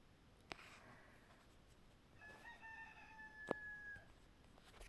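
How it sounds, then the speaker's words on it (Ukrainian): A rooster crows once in the distance, faint but clear over quiet background noise, with a couple of soft clicks nearby. "у нас ранок ви чуєте, як півні."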